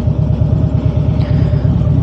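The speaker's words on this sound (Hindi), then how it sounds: "बहुत ज़्यादा ट्रैफिक है" Steady low rumble of heavy road traffic on a busy drive toward Muskoka, continuous engine drone without breaks, heard from inside a moving vehicle with no talking.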